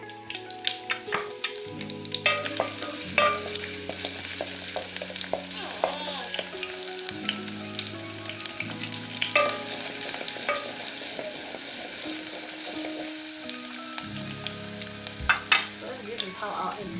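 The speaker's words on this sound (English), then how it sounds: "So we're going to put in our onions like this." Onions frying in a pan for an egg and tomato dish make a continuous sizzle, with light stirring crackle, under background music.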